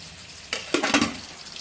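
Potatoes and flat beans being fried in a home kitchen, heard as a few close sizzling bursts with light stirring and pan clatter, quiet and without talk.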